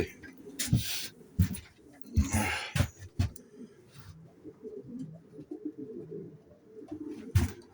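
Racing pigeons back from a windy competition flight coo softly in low, repeated bursts, with scattered rustling and a few sharp knocks; quiet voices murmur in the background.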